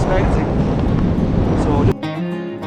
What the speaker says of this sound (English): As you can see, it has become very windy.